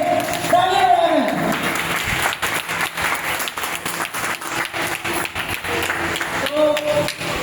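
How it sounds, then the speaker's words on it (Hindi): A crowd claps for India's three armed forces at a freedom celebration event: sustained, dense applause lasting several seconds, with a voice speaking briefly over it at the start and near the end. "तो एक बार भारतीय तीनों सेनाओं के लिए तालियां बजाएं।"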